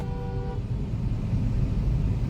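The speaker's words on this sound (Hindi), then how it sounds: "ट्रैफिक चल रहा है।" Road traffic passing on the highway at Mangaon, a loud close engine rumble with a short car horn toot at the start, continuous throughout with no talking.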